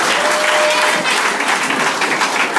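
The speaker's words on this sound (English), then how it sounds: "Clap your hand for Jesus Christ." A church congregation claps hands in praise of Jesus Christ, a dense, continuous wash of applause that stays loud and even throughout, with no pauses.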